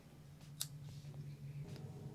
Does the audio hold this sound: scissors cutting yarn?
yes